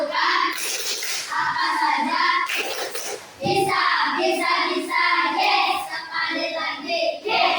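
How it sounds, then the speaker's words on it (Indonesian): Children in a classroom chant the 'tepuk semangat' clapping routine, with sung voices in unison punctuated by sharp hand claps, loud and close. "Kita sama-sama melakukan tepuk semangat."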